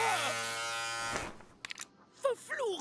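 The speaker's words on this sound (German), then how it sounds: "Gut, dass ich meinen Rasierer noch nicht weggeworfen habe." Close, harmonic buzzing of an electric razor shaving legs in the adventure game Deponia Doomsday, running loudly for about a second before cutting off, followed by a voice speaking.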